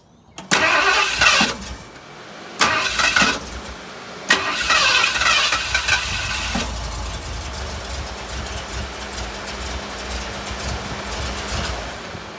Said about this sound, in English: we're going to rotate the engine so the pulley moves the pump